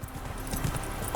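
Horse hooves clip-clop steadily while riding along a path in The Witcher 3: Wild Hunt, a continuous, even rhythm of hoofbeats heard up close throughout.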